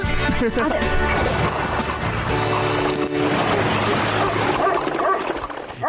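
A dog barks and yelps amid loud, busy background noise and music, continuous and close.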